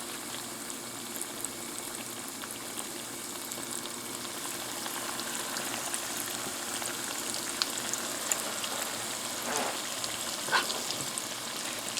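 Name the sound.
salmon croquettes sizzling in hot frying oil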